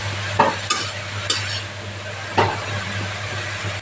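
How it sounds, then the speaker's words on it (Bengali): Carrots frying in ghee and refined oil over a low flame for carrot halwa, stirred so that a steady sizzle runs throughout, broken by several sharp scraping strokes of the spoon against the pan. "এভাবে মিশিয়ে নিচ্ছি।"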